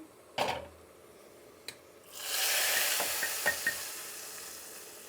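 Vermicelli frying in a pan for payasam, a steady broad sizzle rising after a few sharp stirring knocks and scrapes, with light spoon taps near the end.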